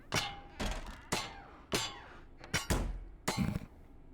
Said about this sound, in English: That was a really good slam sound too.